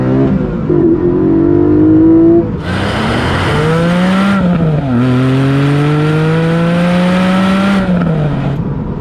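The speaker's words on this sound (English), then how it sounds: "Delicious noise from the induction behind you." A Porsche 718 Cayman GTS 4.0 engine roars up through the gears nearby, with rising induction howl, brief drops between shifts, and a loud, raspy intake note throughout.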